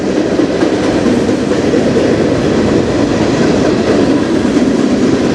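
A CN freight train passes close by on the Strathroy Subdivision, its loud, unbroken roar of wheels and rolling cars holding steady from start to finish.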